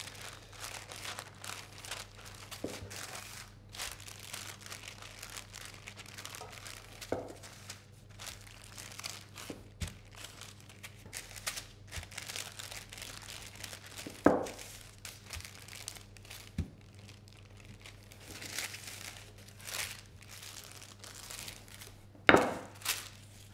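Parchment paper crinkles and rustles while a cheesecake base is rolled out between sheets, soft continuous crackling with a few louder crunches, faint and without talk.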